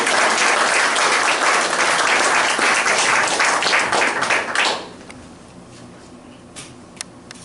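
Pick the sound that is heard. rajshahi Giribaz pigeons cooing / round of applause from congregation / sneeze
round of applause from congregation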